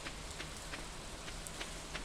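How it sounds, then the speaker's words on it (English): Steady rain falls in the farming game Stardew Valley, a soft, even hiss with faint pattering drops repeating through the whole stretch, quiet and with no voices. "you could seriously just sit here and listen to the rain"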